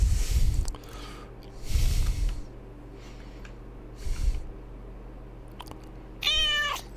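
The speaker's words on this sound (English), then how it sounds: "There's killer cats in this game." Cat meows in the video game Satisfactory come in several separate bursts, fairly close and clear over a quiet background hum, with a brief sharper electronic warble near the end.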